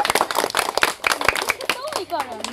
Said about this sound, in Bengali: তাহলে একটা হাততালি দিয়ে দেন